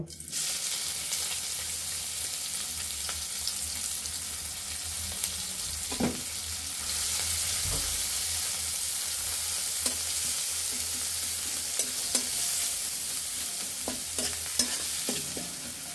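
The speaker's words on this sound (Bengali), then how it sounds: "আমরা মাছ ভাজার তেলের মধ্যেই আমরা এখন পেঁয়াজ কুচিগুলি দিয়ে দিব।" Chopped onions frying in oil left from frying fish, a steady close sizzle with stirring scrapes and occasional clicks of a utensil against the pan, the hiss growing denser after the first few seconds.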